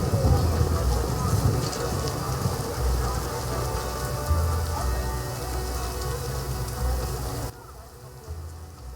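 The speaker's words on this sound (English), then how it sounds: "Storms come in." Steady rain pours down in a storm within The Witcher video game, a dense, continuous hiss of drops on surfaces with low rumbling underneath, holding level throughout before thinning slightly near the end.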